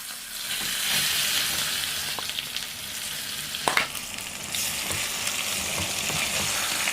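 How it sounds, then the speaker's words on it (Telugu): Tomato and coriander chutney is stirred into a hot tempering with curry leaves, giving a steady close sizzle with scraping stirs throughout and one sharper clatter midway, no voices. "ఇప్పుడు స్టవ్ ఆఫ్ చేసుకొని ఈ పచ్చడిని వేసుకుందాం."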